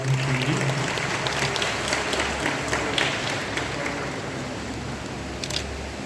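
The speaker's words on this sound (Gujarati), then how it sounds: "આપણે તાળીઓથી વધાવી લઈશું" An audience claps throughout at a ceremony honouring the families of soldiers on Kargil Victory Day, dense continuous applause filling the room at steady volume with a low background hum.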